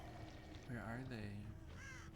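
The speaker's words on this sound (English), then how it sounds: "Thought I heard a crow." A crow caws in a video game, a few harsh calls rising over a steady game backdrop, fairly close and moderately loud.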